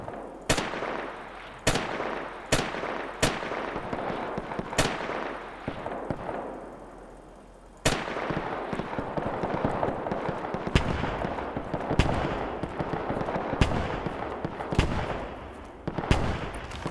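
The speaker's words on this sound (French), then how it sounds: "Mais du coup, oui, un sniper." Gunshots from a sniper rifle and other weapons in the Roblox war game Guerre de l'Est 2.5: sharp, loud reports spaced a second or two apart early on, then denser overlapping fire and battle noise, with no voices.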